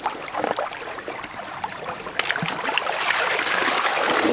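Water dumped into the back of a gold sluice, rushing through three tubes to rinse out the trap, a steady splashing gurgle that builds and grows louder toward the end.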